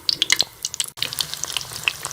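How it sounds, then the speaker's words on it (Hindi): Two chicken drumsticks fry in hot oil over a low flame, crackling with rapid, irregular pops and spits close by, briefly dropping out before the crackle resumes. "मैंने 2 ड्रम स्टिक्स फ्राई कर रही हूँ।"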